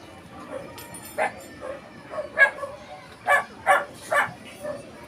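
A dog barks several times in short bursts nearby, with a few quieter yips between, over faint background noise.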